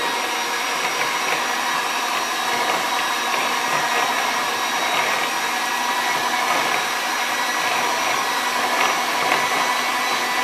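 Electric mixer beating eggs with sugar for a rum raisin cake: a continuous, loud, even motor whine with a steady hum and no pauses, no talking.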